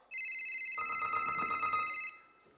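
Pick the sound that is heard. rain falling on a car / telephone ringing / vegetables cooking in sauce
telephone ringing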